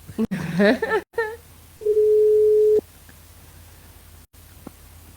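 A phone call placed live to Réunion Island gives a single steady ring tone lasting about a second, following brief voices and line clicks, with faint room noise after it.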